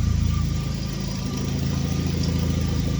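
A turbocharged Honda engine idles steadily while warming up, giving a close, even, rumbling hum with a constant low throb and no voices.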